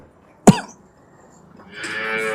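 A cow at a dairy farm in Saidoke village, Moga district, Punjab, where cows are kept for sale, lets out a low, drawn-out moo after a sudden snorting thump, moderately close in a quiet yard.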